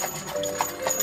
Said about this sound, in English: they are the Canadian breed and the national horse of Canada